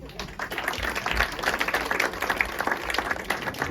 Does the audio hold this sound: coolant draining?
no